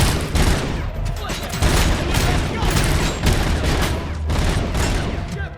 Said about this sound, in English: the Cobra assault cannon is usually really, really strong